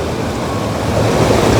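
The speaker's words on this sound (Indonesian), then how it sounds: "terdengar gemericik air." Water rushes and gurgles at a breached river floodgate on Kali Gabus, a steady, loud broadband wash with no pauses and no voices over it.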